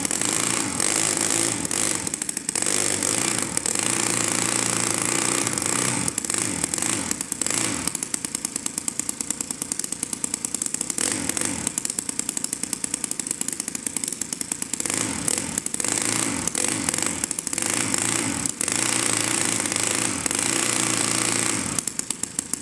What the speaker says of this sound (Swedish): Vi ska se om vi kan lyckas få lyssna på hur en riktig speedway-motor ska låta.